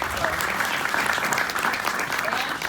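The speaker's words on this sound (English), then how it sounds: "let's do again a round of applause to the team" Steady applause from an audience at a panel at a Wells Fargo homeownership event, a continuous even wash of clapping with no gaps, moderately loud throughout.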